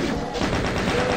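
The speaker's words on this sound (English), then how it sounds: "Get my TNTs up in my butthole. Ouch. Explosion." TNT blowing up in the Doom-style shooter Evilution, a dense, continuous roar of blasts and crackling debris filling the whole moment at steady loudness with no talk.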